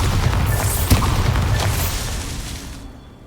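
A Bombarda spell explosion in Hogwarts Legacy, one loud, close, booming blast with a brief pop, then a long rumbling decay that fades out over a few seconds.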